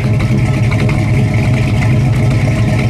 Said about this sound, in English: It's got a great dual exhaust sound.